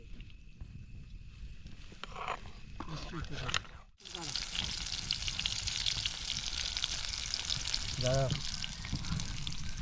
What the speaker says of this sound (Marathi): मित्रांनो आपण चिकन आता फ्राय नुसतं करणार आहे